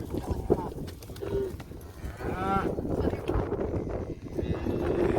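Cattle being moved out of a pen during a drought herd sale, with a cow lowing briefly amid wind noise, shuffling hooves and a man calling out nearby.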